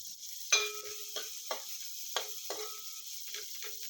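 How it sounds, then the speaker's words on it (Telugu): Sliced onions fry in a pan under a thin, constant hiss, punctuated by several distinct scraping strokes of a spoon at irregular intervals; quiet and close, with no talking. "మనం స్లైసుల్లో కట్ చేసుకున్న ఉల్లిపాయల్ని వేసేసి ఇది మీడియం బ్రౌన్ కలర్ వచ్చేదాకా వేయించుకోవాలి"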